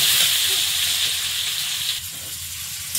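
Potatoes frying in oil with a little turmeric and salt give a steady, bright sizzle and hiss that holds evenly throughout, easing slightly toward the end.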